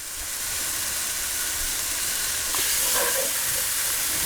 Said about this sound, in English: just mix that paste in, fry it off for about a minute